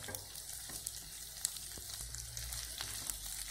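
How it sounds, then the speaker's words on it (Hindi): Ginger and green chili sautéing in oil for vegetable pulao, a quiet continuous sizzle with small crackles and spatters throughout. "अदरक और मिर्च को भी 30 सेकंड के लिए सोते कर लिया है इसमें तेल में।"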